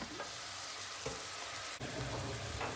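Peppers and onions fry in a covered pot with a continuous dense sizzle, close and even, broken by a couple of faint clinks.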